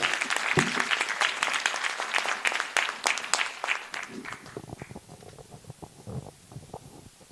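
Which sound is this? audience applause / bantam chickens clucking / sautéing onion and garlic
audience applause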